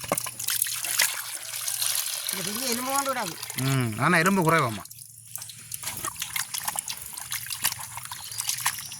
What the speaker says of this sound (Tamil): இனி நான் கழுவி எடுப்போம்